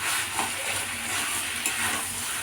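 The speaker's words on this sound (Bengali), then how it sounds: "এবার একটু খুন্তি দিয়ে এগুলো ভালো করে ঘেঁটে দিতে হবে।" Vegetables stirred with a spatula in a hot pan, a steady soft sizzle and scraping with faint clinks, close and continuous.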